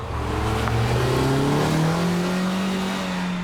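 A Kia Soul with a four-cylinder engine revs up, its pitch climbing smoothly and then holding at a higher steady drone, loud and close with no talking.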